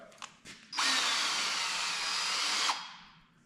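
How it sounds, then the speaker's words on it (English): A power drill whirs steadily for about two seconds, high and close, after a couple of short taps and a brief rev. "I said we had to drill 6 holes."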